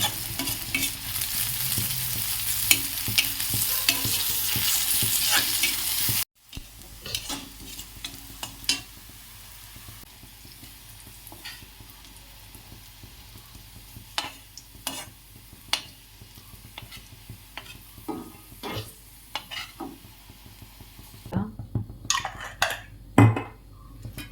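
Curry leaves and ginger sautéed in a frying pan for a special fish fry: steady sizzling with frequent scraping and clinking of a utensil against the pan, loud at first, then softer, with no talk.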